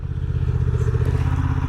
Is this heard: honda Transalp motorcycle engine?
yes